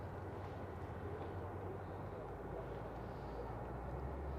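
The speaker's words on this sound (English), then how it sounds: "This is a Dreamliner." Steady, loud jet engine roar from a Qatar Airways Boeing 787 Dreamliner at Vienna International Airport, heard from the visitors terrace, a continuous broadband rumble with no clear breaks.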